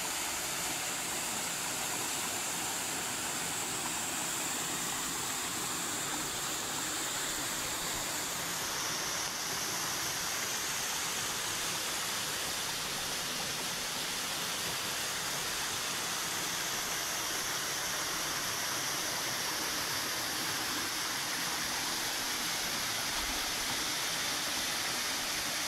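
A small hidden waterfall in a forest rushes continuously, giving a dense, steady roar of falling water that stays close and even throughout with no voices over it.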